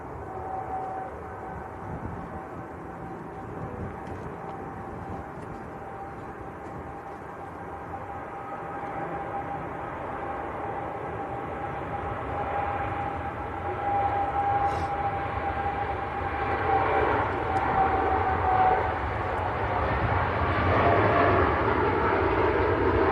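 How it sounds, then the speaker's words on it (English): Saudi Boeing 787 Dreamliner rolling down the runway at Manchester Airport for takeoff, a distant jet roar with a steady whine that builds gradually louder over twenty seconds. "we've got the Saudi Dreamliner on the roll"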